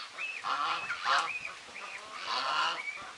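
Geese and their goslings honk repeatedly in short, nasal calls, several birds overlapping near the microphone in an outdoor farmyard setting, with no talking.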